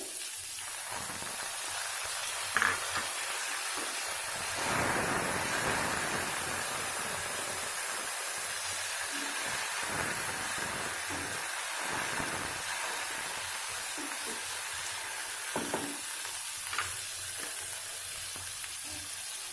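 Onions and tomatoes frying in a pan for dhaba-style moong dal, a steady loud sizzle with bursts of crackle and scraping stir sounds throughout, no talking.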